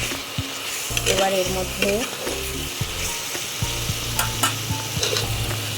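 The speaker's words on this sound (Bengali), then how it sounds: "ভেজে রাখা আলুগুলোকে দিয়ে দিচ্ছি, দিয়ে ভালো করে নেড়ে নিচ্ছি।" Fried potatoes being stirred in a pan with a spatula for vegetarian aloo dum, the oil sizzling steadily beneath scraping and clinking strokes against the pan, while someone speaks briefly over it.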